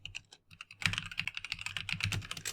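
Typing on a computer keyboard, a close run of quick irregular key clicks that starts sparse and then becomes dense and continuous, with no talking.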